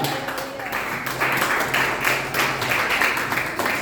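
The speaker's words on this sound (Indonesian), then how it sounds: "Beri tepuk tangan bagi Tuhan" A church congregation applauds for God during a sermon, a rolling, moderately loud wash of clapping that swells in waves across a few seconds without a break.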